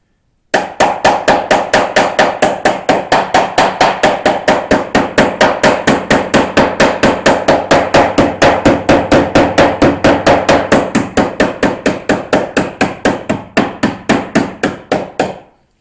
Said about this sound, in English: we're going to go back to the body hammer